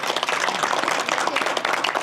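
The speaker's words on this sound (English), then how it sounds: "Let's give her a round of applause." Steady, dense applause from an audience, continuous clapping throughout with no break.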